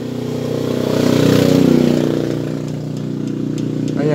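A motorcycle engine idles close up with a steady, rough mechanical chatter from loose valve clearance, swelling slightly then settling, with faint ticking on top.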